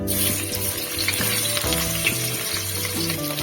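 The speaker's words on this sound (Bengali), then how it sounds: "তেলটা গরম হয়েই এসেছে, আমি এর মধ্যে এবার আলুগুলো দিয়ে দিতে থাকবো।" Potatoes fry in hot mustard oil in a wok, a loud, close, continuous sizzle with stirring, over steady tonal background sounds.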